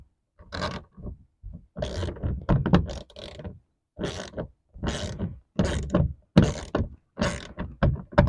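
A ratchet with a 9/32 socket loosens bolts in short, repeated bursts of clicking and scraping, each burst separated by brief pauses, close and fairly clear.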